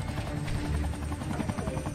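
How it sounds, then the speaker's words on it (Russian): Helicopter from the GTA video game, set in Los Santos, a steady loud rotor drone with rhythmic low thumping and a broadband whine running continuously throughout, no voices. "Вертолеты охотятся на тебя, а обычные NPC охотятся на вертолеты."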